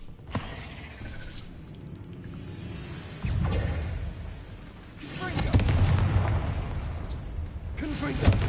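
Fire-blast spell cast in Hogwarts Legacy, booming bursts of explosive impact at a few points, each followed by rumbling decay over a steady game background.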